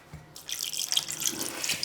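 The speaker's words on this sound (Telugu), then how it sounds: "మనం సరిపడినంత నీళ్ళు పోసుకొని ముద్దలాగా చేసుకోవాలి." Water splashes as it is poured into moistened flour in a bowl to form dough, a sudden close gush that keeps running with light trickling and spattering.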